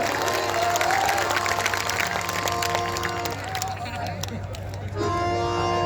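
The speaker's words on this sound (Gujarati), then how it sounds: "બે હાથ ઊંચા કઈ તાળી પાડો" Audience applause rolls steadily through a crowded gathering, dense and sustained clapping with cheers and voices mixed in, dipping briefly before swelling again near the end.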